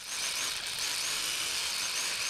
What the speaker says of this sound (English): we're going to hammer drill this side as well.